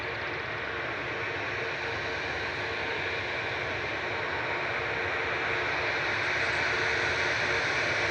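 A passenger airliner takes off at Manchester Airport. A loud, steady jet roar fills the air throughout and swells slightly toward the end, with no pauses or breaks.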